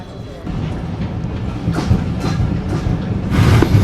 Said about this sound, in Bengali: ট্রেন ছেড়ে দিল দৌলতপুর স্টেশন থেকে